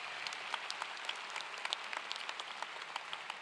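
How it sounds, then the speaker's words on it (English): Quiet, steady applause from a large audience at a university undergraduate commencement, many hands clapping evenly and somewhat distant in a big venue for several seconds, with crisp individual claps popping out. "Let's give them a round of applause."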